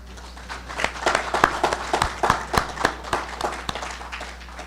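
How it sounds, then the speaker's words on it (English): Audience applause at a Disaster Management Coordination Agency appreciation ceremony: scattered, fairly light clapping with distinct sharp claps over a few seconds, moderately close, no talking. "could you please give them a round of applause?"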